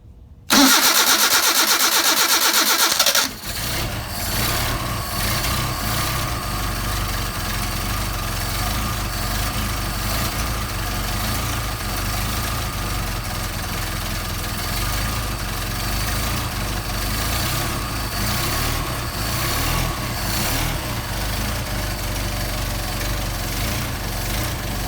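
Cold start of an engine using the choke: a loud crank catches after a few seconds and settles into a steady, even idle that runs on continuously.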